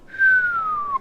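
A person whistles a single smooth falling tone lasting about a second, imitating a man falling from construction scaffolding; clear and close, with no talking.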